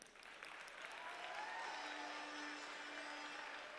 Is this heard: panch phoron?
no